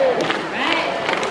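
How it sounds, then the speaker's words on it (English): A live audience at a bird show cheers and chants in unison to support a green macaw, a dense crowd roar sustained across the whole moment, with no clear individual claps standing out. "You do the same thing, clap your hands and you go, Barry, Barry."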